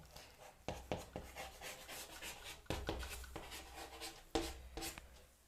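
Chalk or marker writing on a board while a dimension formula is noted, with short scratchy strokes in bursts and pauses, close and moderately loud, with no talk.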